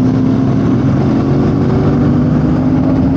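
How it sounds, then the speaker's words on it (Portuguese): A Royal Enfield Super Meteor motorcycle pulling in fourth gear near La Plata airport gives a close, continuous mid-pitched engine drone that holds steady for a few seconds with no talk. "Quando ela começa a girar, você vê que a moto respira mesmo."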